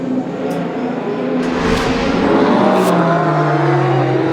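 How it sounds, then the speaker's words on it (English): The 44 Manor endurance race car crawls slowly into the pits at the 6 Hours of Spa, its engine a loud steady drone that drops in pitch as it slows, with other cars faintly passing. "Tor Graves comes into the pits very slowly with the 44 Manor."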